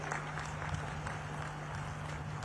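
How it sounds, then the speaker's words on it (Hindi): Audience in Bastar clapping together at a cultural festival, a steady broad patter of applause heard at a moderate distance, with no talk over it. "एक बार हाथ उठाकर जोर से ताली बजाइए"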